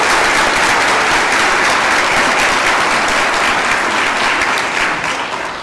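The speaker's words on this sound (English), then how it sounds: "Please give a round of applause for the certificate graduates who are not able to be here" A graduation ceremony audience applauds certificate graduates, a dense, loud wash of clapping that holds steady and then fades slightly toward the end.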